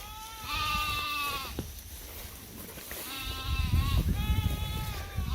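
Sheep on a deep-grass pasture bleat in two long, wavering calls separated by a short pause, fairly near, over a low rumble of wind and outdoor noise.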